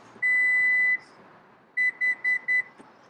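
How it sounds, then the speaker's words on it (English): A Lexus UX power liftgate gives one long electronic tone, then four short, evenly spaced beeps confirming a new opening height, clear and close with no talking. "push and hold and listen for 4 beeps"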